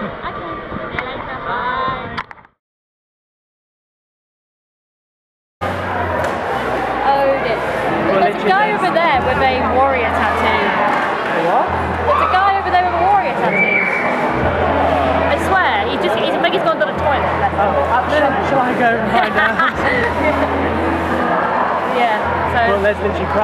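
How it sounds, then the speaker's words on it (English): Crowds of people chatter while waiting outside a wrestling show, a dense, continuous babble of many voices close around, broken by a few seconds of near silence early on. "There's literally crowds of people"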